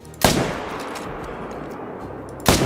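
Two loud rifle shots while hunting in the video game Call of the Wild, spaced about two seconds apart, each a sharp crack followed by a long rumbling tail that trails off.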